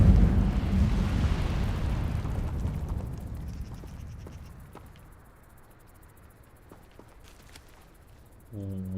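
The Incendio fire spell is cast in the Hogwarts Legacy video game: a loud, rushing burst of flame that gradually fades over several seconds into a quiet background. A voice briefly begins at the end.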